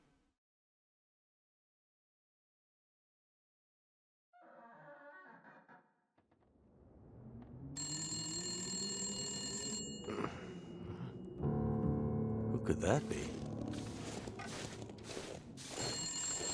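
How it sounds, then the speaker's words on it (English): A telephone rings repeatedly in The Long Dark, a loud bright bell trilling in bursts after a stretch of silence, with a brief spoken line just before it starts. "when a phone rings, you answer it"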